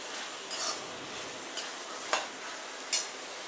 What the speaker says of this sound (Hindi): अभी हम इसमें जो पनीर के जो क्यूब्स कट करके रखे थे वो डाल रही हूँ। इसको भी हम अच्छी तरह से मिक्स करके लेंगे।